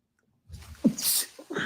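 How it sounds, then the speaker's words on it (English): A single close sneeze from someone with allergies bursts out after a moment of quiet, sharp and breathy, followed by a short exhale. "Excuse me, I usually sneeze."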